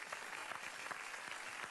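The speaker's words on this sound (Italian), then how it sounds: "Applausi." Audience applause, a faint, steady patter of clapping hands from a distant crowd, uniform and brief.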